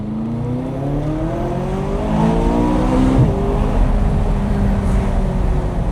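Supercar engine accelerating hard from inside the car, a loud rising roar climbing through the revs with a brief gear change, heavy whoosh and road noise underneath.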